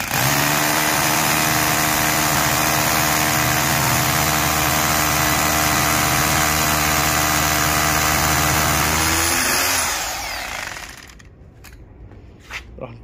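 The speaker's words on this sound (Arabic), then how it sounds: "نبدلنا الراس الى مثقاب 10، ان شاء الله راح تضبط معنا الامور" A power drill fitted with a size 10 bit drills during installation of vehicle parking stoppers, giving a loud, steady whining drone for about ten seconds. It then winds down and stops, followed by a few quiet knocks.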